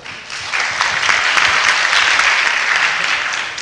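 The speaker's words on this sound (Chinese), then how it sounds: "请大家掌声鼓励。" A conference audience at a PHP developer event breaking into applause, a dense, loud wash of many hands clapping that swells and holds steadily for several seconds before easing.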